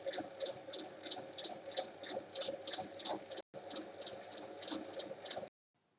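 A sewing machine stitches a bag seam in rapid even bursts, close and fairly loud, stopping briefly midway and then halting near the end.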